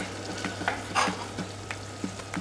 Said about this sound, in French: il n'y a plus qu'à laisser mijoter ça en fait